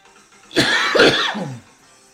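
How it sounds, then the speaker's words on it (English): One loud, harsh cough close to the microphone, lasting about a second, with a rasping throat-clearing quality. "sorry if that cough was a little aggressive."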